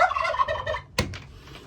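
A broody chicken kept in a garage makes a run of throaty, warbling clucks up close, followed by a sharp knock or click and a few softer trailing calls.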